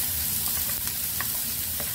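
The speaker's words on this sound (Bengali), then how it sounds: "পেঁয়াজগুলো আমি এর মধ্যে দিয়ে ভাজা করে নেব" Two large chopped onions fry in a pan with a loud, steady, dense sizzle that runs unbroken from start to finish, with no voices.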